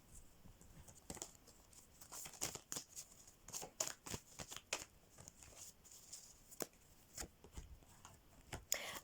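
Tarot cards are shuffled during a new moon reading: a fairly quiet run of quick, irregular papery snaps and riffles with no voice over them.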